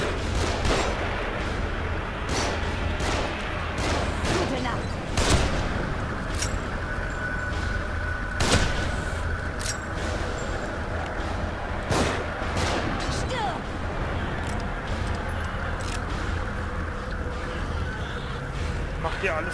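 Gunfire crackles from above throughout a fight in the survival-horror game The Evil Within, with repeated sharp shots and bursts over a steady rumbling game backdrop.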